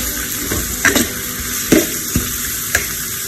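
Onions frying in hot oil in a pan for bone soup, a steady close sizzle broken by a few sharp crackles and spatters as they cook toward crispness.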